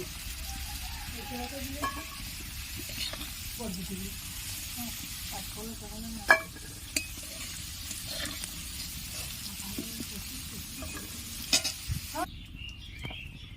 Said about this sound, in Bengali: আলুগুলো লাল লাল করে ভাজা হয়ে গেছে, এবার আমি তুলে নেব।